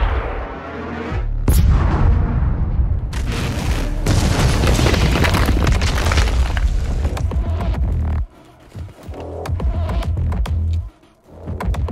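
A huge cannon in Doom Eternal fires after a countdown, a loud booming blast with heavy rumbling that rolls on for several seconds, then quieter mechanical rumbles and thuds.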